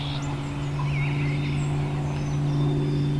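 A wild turkey gobbler gobbles over a steady low hum, with a few faint higher calls, likely from hens, scattered across the clip.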